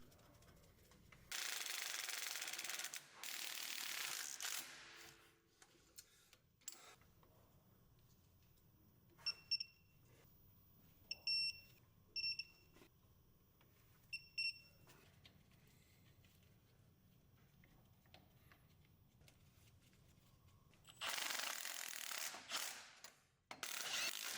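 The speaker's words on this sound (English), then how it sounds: "Thread the bolts in on both flanges, then tighten and torque all 8 bolts." Ratchet tightening the driveshaft flange bolts on a 2024 Ford Ranger clicks in several short quick bursts during a quiet stretch, with louder broadband noise at the start and end.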